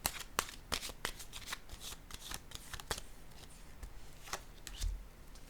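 Tarot cards shuffled by hand in a quiet room: a steady run of crisp riffling snaps and soft slides repeating for several seconds, close and fairly faint, with no talk.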